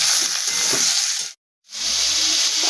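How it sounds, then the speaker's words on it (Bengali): Pieces of pointed gourd frying in hot oil with turmeric, a steady loud sizzle and hiss that cuts out abruptly for a moment before resuming, with faint stirring underneath. "পটলটাকে ভালো করে হালকা লালচে লালচে করে ভাজতে হবে"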